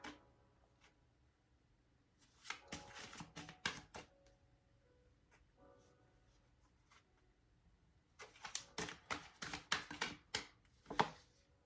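Oracle cards are shuffled and drawn in two quiet bursts of riffling and flicking, separated by a near-silent pause.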